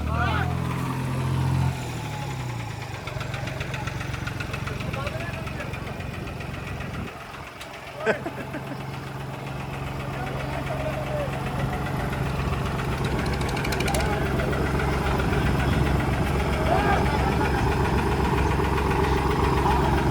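A tractor engine idles steadily in a village where trolleys of soil are being brought in, its low rumble running under loud nearby talk from several people for the whole stretch.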